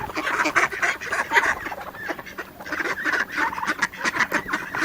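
Mallard ducks and other backyard poultry, including turkeys and chickens, call in a steady jumble of honks, quacks and clucks, close and continuous around a feeding area.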